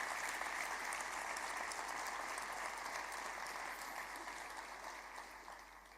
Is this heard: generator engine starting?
no